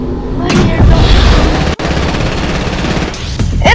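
Dense, continuous gunfire and booming blasts in a multiplayer shooter match, loud and sustained throughout with a brief dip midway, while voices chatter underneath.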